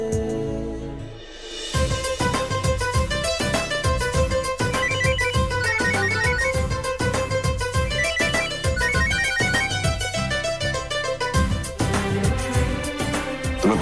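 A melodic phone ringtone for an incoming call plays loudly and continuously, a rhythmic electronic tune with steady beats repeating for over ten seconds, with no talking over it.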